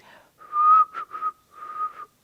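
A person whistles a short tune alone, steady tones broken into a few separate notes, fairly clear and close with no talking.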